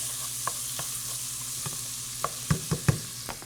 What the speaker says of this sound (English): our bacon is rendering, looking good